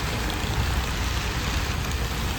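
Heavy rain pours near Manarcad in Kottayam district, a loud, unbroken roar of water filling the whole moment with no voices.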